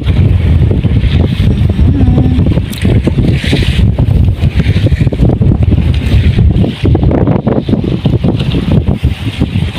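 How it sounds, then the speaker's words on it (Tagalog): Strong wind buffets the microphone in a continuous loud roar, gusting throughout, with a faint rumble of water or a boat underneath. "Mahangin dito."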